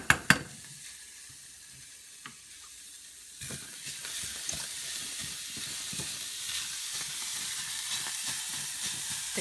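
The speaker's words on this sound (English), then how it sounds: "They brought a little more moisture in, a little more sizzle." After a couple of clunks, peppers sizzle steadily in a hot pan, a close crackling hiss that swells and stays lively throughout.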